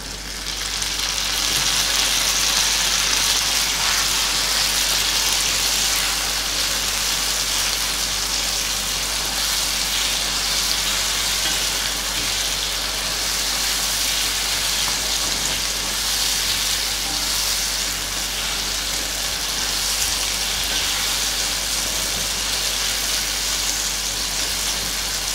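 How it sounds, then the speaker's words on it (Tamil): Onions and tomatoes sautéing in a pan for a shark curry, giving a steady loud sizzle with occasional stirring throughout and no speech. "இப்போ நமக்கு தக்காளி நல்லா வதங்கிடுச்சு"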